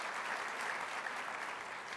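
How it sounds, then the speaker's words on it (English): A civic audience at a State of the City address breaks into even, steady applause, many hands clapping together at moderate volume without pause. "the school deserves a round of applause"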